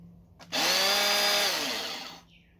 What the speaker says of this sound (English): The electric chainsaw.